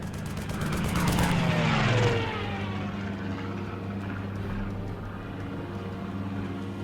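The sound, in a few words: German fighter plane flying past and shooting, from a video game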